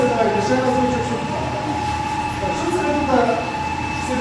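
A beeswax comb foundation machine runs with a steady mechanical hum, a constant tonal whine, and rhythmic rolling rumble, while people talk nearby.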